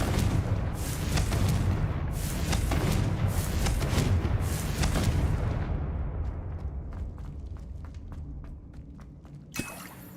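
A Confringo fire spell explosion in Hogwarts Legacy gives a heavy rumbling roar with repeated booming pulses for several seconds, then dies away to sparse faint crackles before a sharp click near the end.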